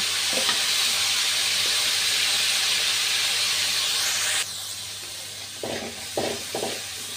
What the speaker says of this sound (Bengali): কড়াইতে তেল দিয়ে পেঁয়াজ রসুন বাটা দিয়ে দিয়েছি, ভাজা ভাজা হয়ে আসছে।